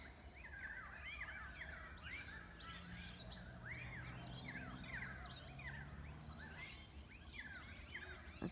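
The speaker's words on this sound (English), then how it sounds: "Whatever bird that is, or birds." Unidentified birds call over and over, a dense run of quick, sweeping chirps and whistles repeating at a steady pace, moderately distant over a low background rumble, with no talking.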